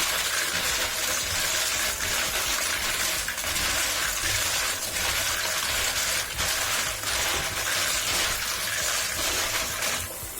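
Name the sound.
rinsing keyboard keycaps under water in a colander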